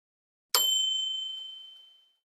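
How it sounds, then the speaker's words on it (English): A single thin bell ding rings out, clear with a long ringing decay that fades over about a second and a half, alone in silence, used as a horror story sound effect. "Then, from the basement, a bell rang."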